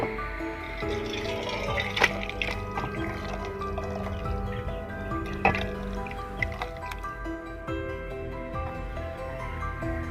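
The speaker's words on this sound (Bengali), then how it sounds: "তরকারিটা বাটিতে ঢেলে নিচ্ছি" Eggplant and chapila fish curry is poured from a cooking pot into a bowl, producing wet, squishy drips and splatters with a few sharper scrapes of the pot, close and moderately loud, with no talking.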